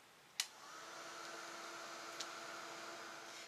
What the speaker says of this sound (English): Now I'm just going to give this a quick shot of heat to dry it.